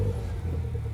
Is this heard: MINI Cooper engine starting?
yes